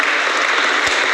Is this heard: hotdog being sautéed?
no